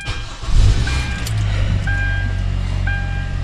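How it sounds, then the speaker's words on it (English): Hyundai Tucson engine cranking and catching with a low rumble that settles into a steady idle, with repeated electronic chime tones from the dashboard over it. "We're gonna start the ignition."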